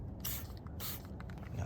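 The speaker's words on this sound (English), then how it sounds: "Spray 2 sprays into this towel." Two quick spritzes from a car detailing spray bottle onto a towel, close and short, each a soft hissing burst, with quiet background between.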